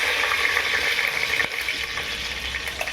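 Curry leaves dropped into hot oil for a black-eyed pea curry, crackling and spitting in a fast steady sizzle at close range, with a brief sharp pop partway through.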